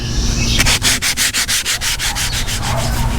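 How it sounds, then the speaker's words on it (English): Hand sanding of a fiberglass door panel for a 1974 Chevy Caprice with 80 grit sandpaper, heard as a close run of about a dozen rhythmic, raspy back-and-forth strokes over a low background hum. "I got everything sanded with the 80 grit by hand."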